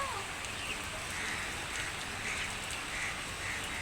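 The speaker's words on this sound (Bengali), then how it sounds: "চট্টগ্রামে প্রচুর পরিমাণ বৃষ্টি হচ্ছে" Heavy rain pours steadily in Chittagong, heard from a balcony as a continuous moderately loud hiss of falling water with faint spatters, no voices present.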